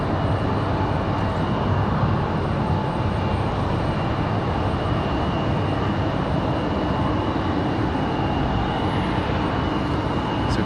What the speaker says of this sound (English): Southwest 154 off to Chicago Midway. That 737 MAX 8 off to Mattman's neck of the woods.